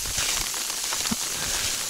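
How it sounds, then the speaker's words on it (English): Sleet mixed with rain falls steadily around a hiker on a trail in the Ozarks, a soft continuous hiss of pellets and drops pattering close by, with no talking. "Well, hey guys, I guess it is gonna rain today."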